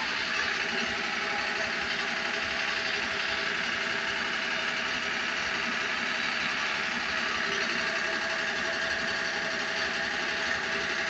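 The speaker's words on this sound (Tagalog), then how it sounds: "Naandar ang makina." A steady engine runs at idle throughout, a constant mechanical drone with a faint rhythmic knock and no voices.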